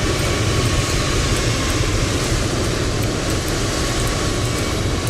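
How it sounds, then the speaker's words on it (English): Loud, steady airport noise outside a parked aircraft at Vienna, a dense roar of engines and ground equipment with a constant rumble and hiss and no clear breaks. "Ooh, it's loud. Goodness gracious. That sounds like an airport to me."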